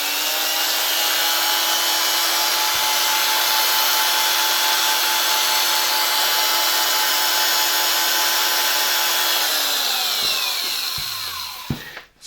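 A 1968 CEFANA PRCa6 electric drill from the Cieszyn tool factory runs steadily at close range with a loud, even motor whine for about ten seconds, then winds down and stops near the end.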